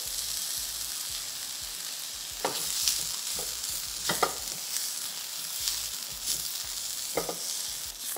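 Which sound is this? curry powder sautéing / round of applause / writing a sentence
curry powder sautéing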